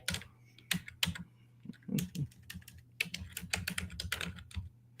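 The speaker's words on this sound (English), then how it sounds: "You hear me typing a lot of that's just me hitting the erase button" Rapid, uneven clicks of a computer keyboard, close up, with bursts of quick keystrokes and short pauses, no voices.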